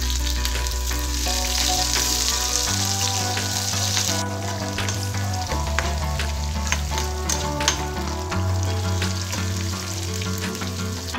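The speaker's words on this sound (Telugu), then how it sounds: "ఆయిల్ వేడిన తర్వాత తాలింపు గింజలు, ఎండుమిర్చి, ఉల్లిపాయ ముక్కలు, పల్లీలు," Tempering seeds, dried red chillies, onion pieces, peanuts and curry leaves frying in hot oil give a loud, continuous sizzle and crackle, with steady low tones running beneath.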